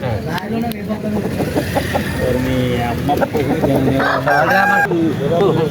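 A rooster crows at a Saturday country-chicken market, with a long rising call standing out over clucking fowl, nearby vehicle noise and busy bargaining voices.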